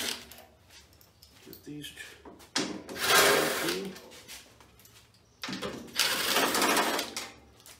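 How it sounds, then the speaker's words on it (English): A power tool backs out the 8 mm bolts holding the tank on a Westinghouse 28000-watt generator. Two loud, buzzing whirs stand out, with quieter handling noises and a brief spoken remark before them. "now we'll go ahead and remove the 4 bolts so we can pull the tank off"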